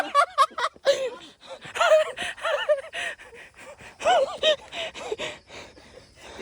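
Heavy panting and gasping after climbing about a hundred steps up to a camp site, breathless huffs and half-laughs close to the microphone, mixed with strained vocal sounds.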